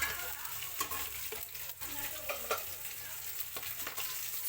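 Rita fish pieces frying in hot oil in a pan, a steady bubbling sizzle close by with occasional sharper crackles and pops, no talking.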